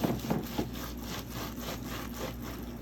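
Soil blocker pressed and twisted down into wet, oatmeal-like seed-starting mix for lisianthus, giving a close, steady scraping and rubbing grind, with a few sharper scuffs at the start.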